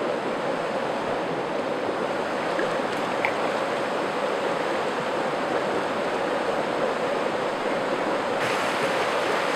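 A small river flows steadily, a broad continuous rush of water that stays even and constant throughout.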